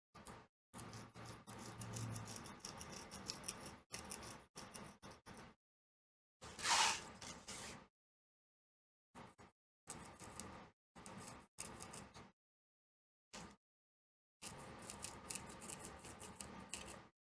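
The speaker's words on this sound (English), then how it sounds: "Long scissors." Long scissors cutting through fabric while finishing a needlepoint LED lamp shade, heard as repeated close, crisp snipping and rubbing strokes in several separate bursts with pauses of silence between.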